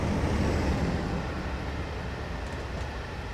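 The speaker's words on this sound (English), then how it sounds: "here comes a cargo train" A cargo train in the Train Simulator game rolls past as a steady broadband rumble that is loudest at the start and then eases slightly but keeps going.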